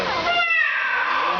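A parrot at a bird park imitates a cat, giving a single drawn-out, wavering meow that rises and falls in pitch, close and clear against a quiet background.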